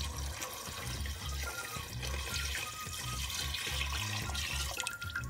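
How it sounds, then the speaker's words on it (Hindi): Water poured into a cooking pot for lamb nihari, a steady, close splashing gush running unbroken throughout with no talk. "5 से 6 कप पानी के लिए, और ये मैं इसमें डाल दूंगी।"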